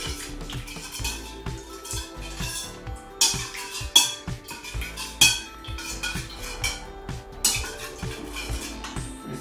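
A utensil mixes squeezed lemon into a fresh salad dressing in a bowl, making repeated loud clinks and scrapes against the dish in an uneven rhythm, close up with no talk.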